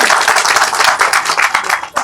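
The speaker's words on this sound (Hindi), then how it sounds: "ताली बजा के स्वागत करते" A crowd gives loud, brisk applause in welcome at a public gathering. Dense clapping runs for about two seconds without a break.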